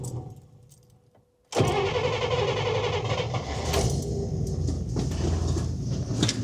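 A 1961 Buick engine cranks briefly, then catches and roars into a loud, steady idle that continues close-up to the end.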